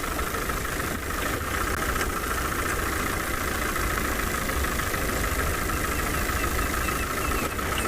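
A safari vehicle's engine idles steadily and close by at sunset, a continuous loud, rough rumble that never drops out, with no voices over it.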